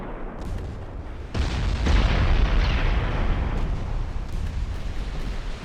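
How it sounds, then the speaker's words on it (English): Torpedoes striking a ship in a WWI naval strategy game: a sudden deep explosive boom followed by a rumbling, sustained roar of blast noise that slowly fades, with no voices. "Torpedo hits on Trenton."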